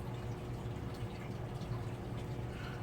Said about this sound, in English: Sorry if you can hear water in the background.